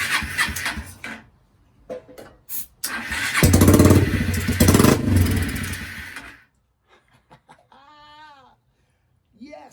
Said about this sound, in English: I can't believe the bike started.